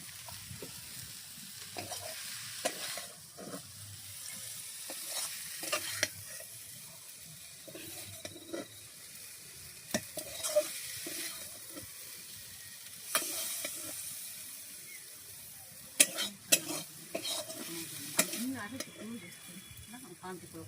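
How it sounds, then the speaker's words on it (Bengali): Jute leaves being stir-fried in a pan give a quiet, steady sizzle with intermittent scraping and clattering from stirring, a few sharper knocks near the end, and no talking. "আমার এই যে পাটের শাক ভাজা হয়ে গেছে, এখন নামিয়ে নিব।"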